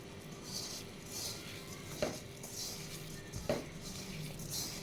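Sugar is mixed by hand into a mixture in a bowl, giving a quiet, soft rustling texture broken by two light clinks against the container, with no talk.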